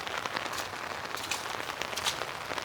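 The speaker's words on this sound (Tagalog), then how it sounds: "Walang sawa ang ulan." Steady rain falls on a rural farm road softened by weeks of wet weather, a dense even patter with scattered sharper drops, moderately loud and unbroken with no voices.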